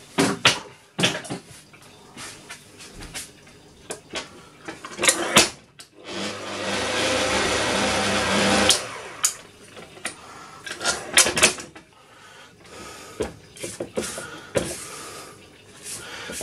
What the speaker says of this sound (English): we're just going to fold in the chocolate chunks